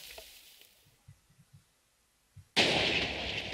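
A TNT launcher in Minecraft goes off in a sudden loud blast with a long rumbling roar, after a few soft low thumps and clicks in near silence.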